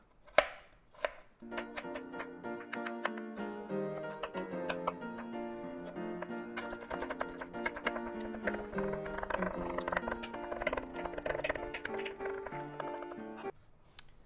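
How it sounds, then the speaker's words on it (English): Ginger and garlic being minced by hand with a knife on a cutting board, rapid close rhythmic chopping taps that carry on steadily for over ten seconds after a couple of isolated knocks, with no talking. "time to mince. Don't have a fancy machine for this one, got to do it by hand."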